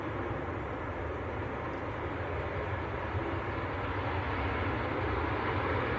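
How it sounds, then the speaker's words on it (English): A Jet2 airliner from Malta, a Boeing 757, touches down at Manchester Airport with a steady, broad engine roar heard from a distance, sustained and even throughout without talk. "Jet2 from Malta, just touching down."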